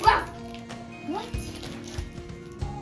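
A person imitates a dog with a brief bark-like yelp at the start, followed by softer whimpering vocal noises over low room sound.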